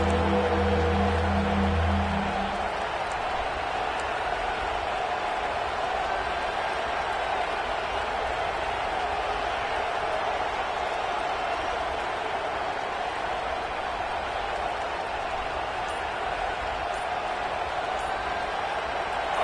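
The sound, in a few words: home crowd cheering at Neyland Stadium football game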